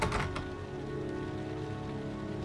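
Steady rain falls in the video game Heavy Rain, a dense, even hiss that runs the whole time with a few soft thumps near the start and no voices.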